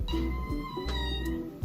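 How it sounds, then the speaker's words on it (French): A kitten meows close and loud, a drawn-out plaintive cry broken into a few quick tonal calls, with no one talking over it. "Je déteste quand il miaule"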